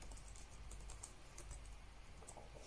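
Rapid, steady key taps on an HP laptop keyboard as a command is typed, a close, quiet, continuous clatter with no talking.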